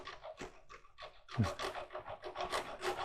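A rasp files the end of a wooden goblet spindle in short, uneven scraping strokes, close and quiet, with brief pauses between passes.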